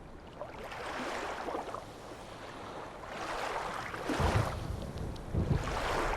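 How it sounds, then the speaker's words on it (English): Waves wash and lap against a moored ship in the rain in the Stoneship Age of the game Myst, a steady rolling surge of water with rising swells, alone and moderately loud. "is that thunder or is that the sound of the waves like lapping against the ship?"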